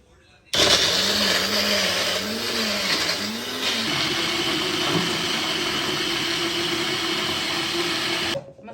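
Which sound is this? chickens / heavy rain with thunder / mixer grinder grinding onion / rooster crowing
mixer grinder grinding onion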